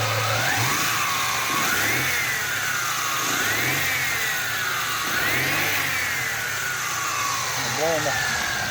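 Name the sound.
alternator noise on a running 1996 Mustang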